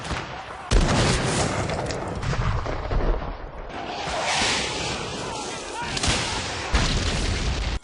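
Civil War cannon artillery fire in a dense, continuous barrage of deep booms and rumbling blasts, loud and close, layered with crackling gunfire and no gaps of quiet.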